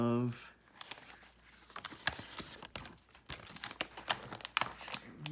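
Scissors cutting around a paper piece for scrapbooking, quick close snips and crinkles of paper in an irregular rhythm, with a person talking over them.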